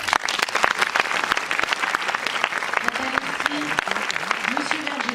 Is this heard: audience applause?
yes